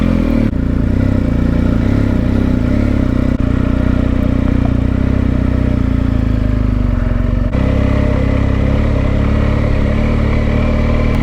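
A BMW motorcycle rides along a coast road in Scotland. Its engine drones loud and constant, mixed with heavy wind rumble, and there are no pauses or voices.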